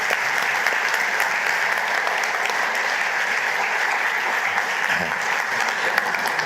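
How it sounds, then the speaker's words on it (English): An audience at a Grenadian cultural and creative industries conference gives the organizers a sustained round of applause, dense and steady clapping filling the room at even loudness throughout. "Please give them a round of applause"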